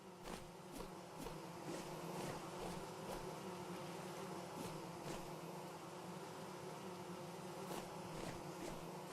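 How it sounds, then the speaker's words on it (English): Bees buzzing in the Vintage Story video game near fruit trees, a steady low drone with faint clicks and taps over a constant ambient bed, no talking. "I can hear bees"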